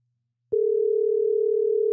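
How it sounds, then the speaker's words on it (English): A steady telephone dial tone starts abruptly after half a second and holds unbroken at an even level, heard alone with no talk. "I'm going to call myself to make sure we can hear it."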